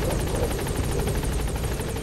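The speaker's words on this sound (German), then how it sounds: "Wer macht denn da so komische Geräusche? Der Hubschrauber?" A helicopter in the video game Metal Gear Solid V, its rotor thumping in a fast, steady pulse, loud and close and continuous with no voices.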